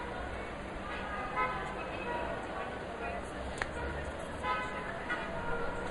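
Busy downtown Cairo street traffic, with car horns tooting now and then over a steady roar of engines and murmuring voices from afar.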